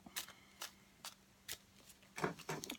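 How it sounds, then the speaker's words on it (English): A quiet series of soft, papery overhand shuffles of playing cards repeats at a steady pace, each burst short and close, with no talking. "And an overhand shuffle."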